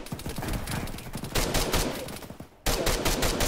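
Rapid bursts of automatic gunfire in Arma 3 crackle continuously and loudly, with a brief gap before the shooting resumes.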